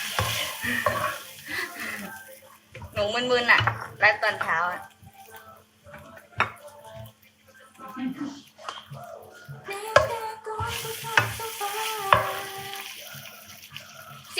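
Food sizzles and fries in a hot pan with occasional stirring scrapes, as a person talks intermittently over the crackle.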